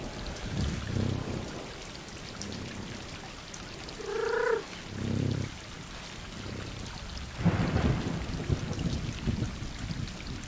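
Rain in the game Stray falls as a steady wash of hiss, broken by deep rumbling swells like thunder and a brief tonal call in the middle.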